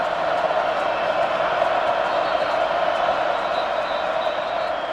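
Stadium crowd at a night college football game between USC and UCLA, a steady loud roar of thousands of fans building on a fourth-down play, continuous and distant-sounding with no distinct shouts.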